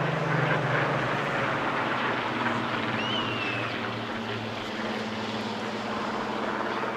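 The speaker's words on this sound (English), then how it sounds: "the blend of the two aircraft engines as they flew past our microphones" Two aircraft engines blend together as they fly past at a seaside airshow, a steady loud droning roar that swells and holds with a low propeller hum, heard alone without talk.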